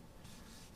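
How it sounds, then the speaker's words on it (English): Steady abrasive rasping of sanding antler for a knife handle, continuous and close, with a gritty rubbing texture throughout the short stretch. "Sanding antler is a very messy process"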